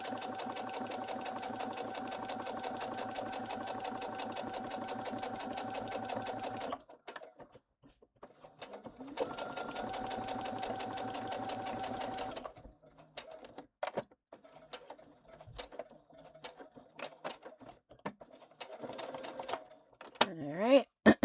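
A sewing machine stitches a River Walker bag in close, steady bursts of rapid needle chatter, running for several seconds, pausing, then resuming, followed by scattered clicks and handling noises.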